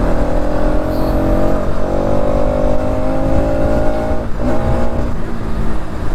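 Bajaj Pulsar NS200 motorcycle exhaust revving, a loud, steady engine note held close and continuous with slight dips in pitch, no voices over it.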